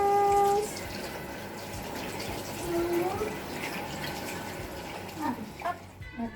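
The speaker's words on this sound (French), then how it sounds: "Et on rince." Running tap water splashes steadily while hands are rinsed at a sink, a continuous mid-level wash broken near the end by a few brief clinks and drips.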